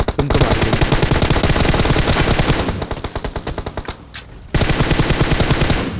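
Rapid automatic gunfire from a video game shootout against enemy players: loud, dense bursts that barely pause, dipping briefly to a lull before the firing resumes at full force.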